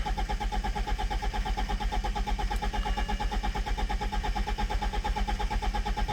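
A 2006 BMW E91 2.0 diesel engine (M47) runs with a steady, throbbing idle, loud and close, holding the same level throughout without cutting out.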